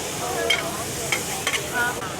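An oyster omelette fries on a hot griddle with starch slurry and two eggs, giving a steady close sizzle with brief scraping stirs from a spatula.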